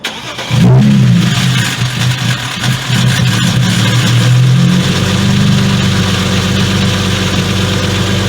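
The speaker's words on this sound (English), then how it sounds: "next step is to start the car and hope that it doesn't blow up" A car with a B58 engine cranks and catches, then idles with a steady low rumble and rises into revving, loud and close, with no voices.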